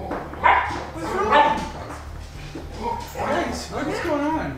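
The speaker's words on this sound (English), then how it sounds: "Why are you barking?" A dog barks and whimpers in short bursts, close and fairly loud, while several people talk over and between the barks.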